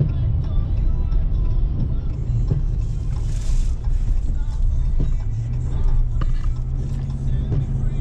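A car drives steadily on a Florida road on the way to Wekiwa Springs campground, its engine and road rumble loud and continuous from inside the cabin, with wind and tyre noise throughout.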